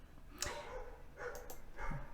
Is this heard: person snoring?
no